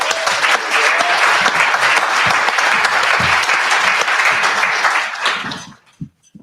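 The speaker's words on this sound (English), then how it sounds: "Can we give another round of applause for Devin Allen, D. Watkins, and Condwani?" Loud, sustained applause from an audience at a live literary event, steady dense clapping that fades out near the end, followed by a couple of stray claps.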